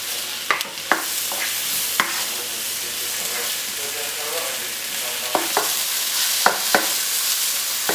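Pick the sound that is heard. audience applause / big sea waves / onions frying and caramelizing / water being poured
onions frying and caramelizing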